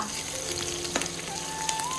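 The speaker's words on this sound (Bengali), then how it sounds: "বেশি করে তেল দিয়া এরপরে ভাজতে আছি" Okra (bhindi) fries in plenty of oil with a soft, steady sizzle and occasional faint stirring clicks, fairly quiet and without voices.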